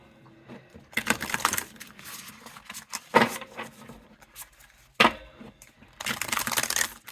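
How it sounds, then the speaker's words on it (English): Oracle cards being shuffled by hand up close, several crisp rustling bursts of flicking card edges separated by brief pauses. "let's give them a shuffle now"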